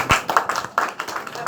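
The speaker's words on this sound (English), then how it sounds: "Clap for you." A few people clapping in an office training session, a short, sparse burst of uneven claps at close range.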